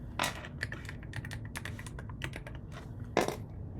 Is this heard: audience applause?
no